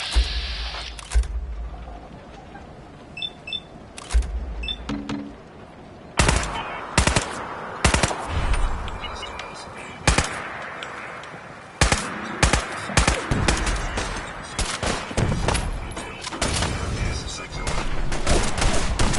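Rapid bursts of automatic gunfire and single shots from a firefight in Fallout 4, loud and close, cracking in irregular clusters across the whole stretch with shouted voices between volleys.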